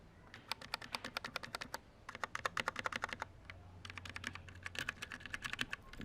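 Fingers type on a mechanical keyboard with red switches, quick bursts of crisp clicky keystrokes in rapid runs separated by short pauses, close and fairly quiet.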